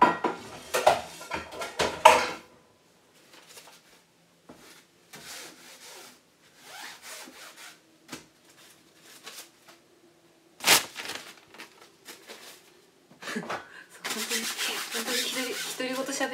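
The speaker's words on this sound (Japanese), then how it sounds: "食器片付けよる人みたい。" Dishes, cutlery and pots clatter and scrape intermittently as they are washed and put away, with bursts of clinking separated by quiet gaps and a longer run of rinsing water near the end.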